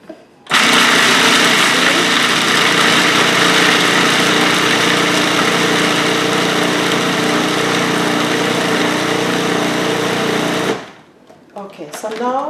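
A food processor grinds nuts for garlic scape pesto, a loud, steady motor whir that runs close for about ten seconds before cutting off sharply, with a few faint noises after it stops.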